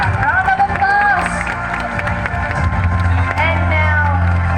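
A crowd applauds and cheers outdoors at the start of the Fraser's Hill International Bird Race, with steady clapping, shouts and babble mixed with nearby voices throughout.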